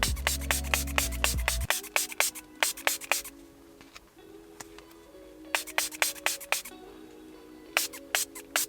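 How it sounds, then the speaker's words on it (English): A spray bottle mists liquid onto a screen protector film during an install in a Toyota. Sharp, repeated spritzes come close in quick bursts with short gaps between them. "you'll want to spray both sides of the film"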